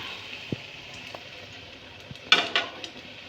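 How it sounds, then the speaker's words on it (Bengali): Fish cutlets fry in a pan, giving off a soft, steady sizzling hiss. A few light clinks and scrapes of utensils sound close by, with a louder clatter near the end. "ভাজাভাজি চলছে"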